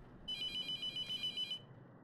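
A phone rings in a horror video game as one steady electronic ringtone burst of pulsing tones lasting about a second, clear and alone over a low background hum.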